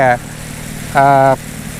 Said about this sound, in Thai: ความแรงของเครื่องประมาณนี้นะครับเบาๆนะครับสบาย